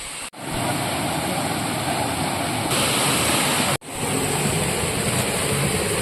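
Layahan Falls gives a loud, continuous broadband roar of rushing water, steady and close, broken only by two brief dropouts.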